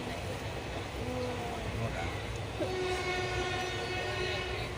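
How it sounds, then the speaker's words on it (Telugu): A train rumbles along steadily, with a sustained tonal horn-like hum rising partway through and faint voices in the background. "ఇంకా ట్రైన్ అయితే స్టార్ట్ అయిపోయిందండి"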